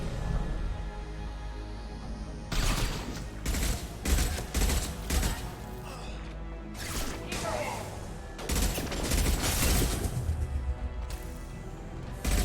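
Rapid bursts of gunfire with incendiary ammo from Mass Effect 2 combat, with loud volleys of shots and crackling fusillades over a steady background hum.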